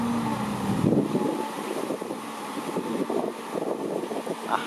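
Wind gusting at an excavation site where a Kobelco Mark 3 backhoe loads dirt into dump trucks, a loud rushing roar with buffeting on the microphone and a low engine rumble beneath.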